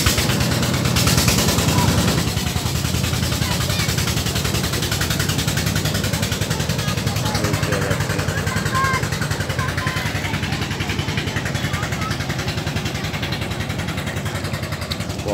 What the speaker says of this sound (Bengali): পদ্মার কলকাতালি ধ্বনি পাবনার উদ্দেশ্যে ছেড়ে গেল ট্রলার